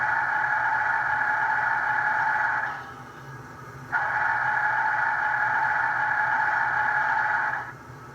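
Whistle from the sound decoder of a Bachmann HO scale Class J #611 model steam locomotive: two long, steady chime blasts with a short gap between, over a low background hum.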